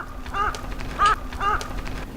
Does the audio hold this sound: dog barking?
no